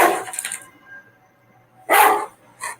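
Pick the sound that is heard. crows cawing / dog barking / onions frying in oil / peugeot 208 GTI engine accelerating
dog barking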